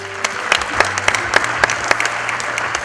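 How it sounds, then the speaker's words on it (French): Steady applause from a crowd, with dense clapping and a few louder claps standing out, continuing throughout. "Des applaudissements"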